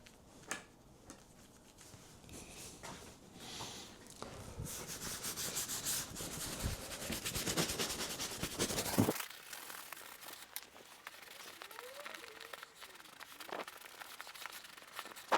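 A leather bag being rubbed and cleaned with saddle soap: close, scratchy rubbing and scrubbing strokes build up, then ease into quieter, sparse handling noises, with no speech.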